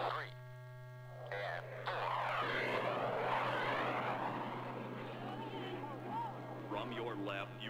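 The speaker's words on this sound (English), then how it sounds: "The solo pilots are entering to perform opposing four-point rolls." Thunderbirds jet fighters roar past at an air show during solo opposing rolls, a loud sustained engine rush swelling and fading over a steady electrical hum, with an announcer's voice over the public address.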